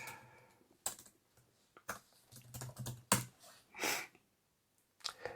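Commands typed on a computer keyboard in a terminal, a sparse run of close, crisp key clicks and louder keystrokes with short pauses between them.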